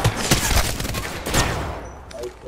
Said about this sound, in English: I don't even know what I was just shooting at, but I just shot